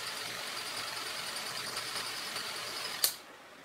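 Old film projector runs and winds film with a steady faint whirring hum and high whine, ending in a sharp click that cuts it off.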